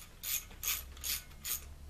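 Four evenly spaced ratcheting bursts, close and fairly quiet, as bolts are tightened with a 7/32 Allen wrench during assembly of a T-90 transmission rebuild.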